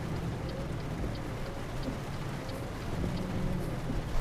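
Rain pouring down in Euro Truck Simulator 2 while driving a truck, a dense, steady patter and hiss of drops with a low rumble underneath, continuous and fairly close, no voices.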